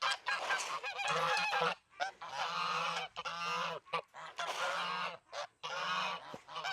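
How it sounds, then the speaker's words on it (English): A gaggle of geese honks repeatedly at close range, with loud overlapping calls in bursts separated by short pauses. "Gaggle of geese."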